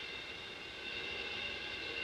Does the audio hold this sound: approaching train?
yes